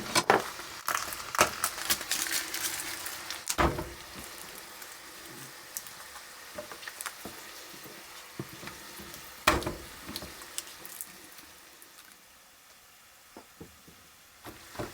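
Garlic frying in oil in a home kitchen as a shakshuka is made: a steady light sizzle and crackle with scattered sharp pops and clicks, sounding close but fairly soft and varying in level over its length.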